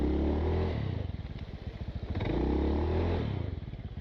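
A Honda Beat scooter rides semi off-road, its engine revving and sputtering close by in uneven rising and falling surges as it labors over rough ground.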